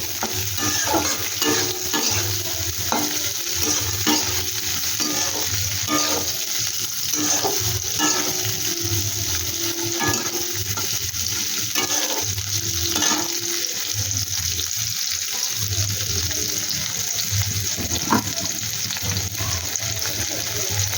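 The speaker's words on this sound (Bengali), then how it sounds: "গাজরটা একটু আমি ভেজে নেব হালকা করে।" Carrot frying lightly in a pan, a steady close sizzle and crackle with repeated stirring scrapes and soft clicks throughout, no voices.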